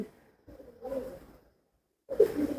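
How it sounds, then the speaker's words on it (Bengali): Pigeons kept in a netted rooftop loft give low, soft cooing calls in two short bursts separated by a brief pause, fairly close and moderately quiet, with no one talking. "মূলত কবুতরগুলো সব এইখানেই থাকে বাইরে যায় না"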